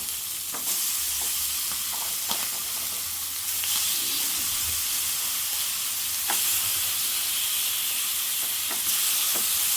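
Surmai (kingfish) pieces fry in a little oil in a pan, a loud steady sizzle up close with occasional clicks and scrapes as the fish is turned, no voices.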